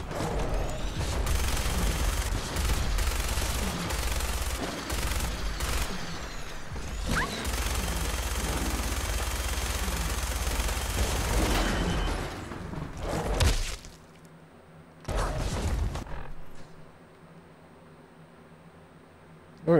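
Rapid gunfire and crashing impacts in a first-person shooter game, loud and dense for about twelve seconds, then dropping away into quieter gaps with a couple of brief bursts near the end.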